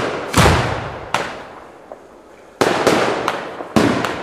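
Fireworks at a private display at a hotel in Calvi, a compact cake and a ring shell bursting: several loud, sharp booms with ringing decays, two early and a quick cluster later, no voices.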